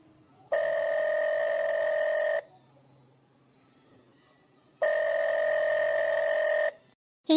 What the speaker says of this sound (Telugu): ఫోన్ ఎంత రింగ్ అయినా ఎన్నిసార్లు చేసినా